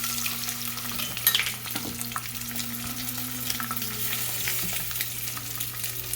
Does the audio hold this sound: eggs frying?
yes